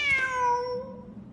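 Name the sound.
cat meowing in Genshin Impact video game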